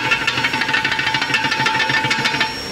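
A loose part in a VW AP 1.8 engine with excessive play knocking, a rapid even rattling tick repeating close by at a steady pace for a few seconds, no talking.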